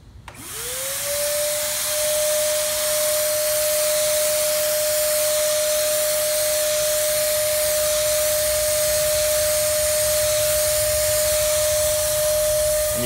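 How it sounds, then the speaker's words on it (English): A steady, loud hiss of a sprayer running continuously with a machine-like whine, nearby and unbroken for several seconds, no voices. "come back with the spray using the same mix that you had originally"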